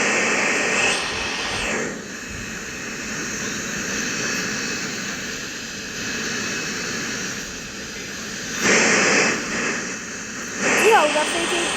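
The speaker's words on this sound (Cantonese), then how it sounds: "之後架飛機結束下墜，" Sriwijaya Air Flight 182, an airliner plunging toward the Java Sea, gives a loud, steady jet-engine roar. It swells into harsher bursts near the end, and a voice may sit under the noise.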